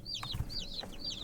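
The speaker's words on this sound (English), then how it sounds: "the chicks are over here singing like it's Easter Sunday" Days-old baby chicks from a feed store cheeping, three quick high-pitched peeps in a row, fairly close, with a soft thump in the background.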